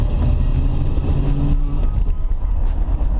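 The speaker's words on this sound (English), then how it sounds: "you can hear that it's a very torquey, powerful motor, and you can hear from the sound of the exhaust, it sounds really nice also" A 1964 Corvette Sting Ray's engine and exhaust give a steady, deep, throaty rumble, close and continuous throughout.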